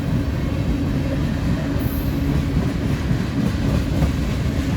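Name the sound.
Norfolk Southern freight train passing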